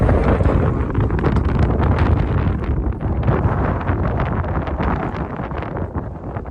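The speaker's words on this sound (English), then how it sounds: "cold and pretty windy up here." Strong wind roars steadily on a cold mountain pass, buffeting the microphone with a constant low rumble and gusty texture throughout.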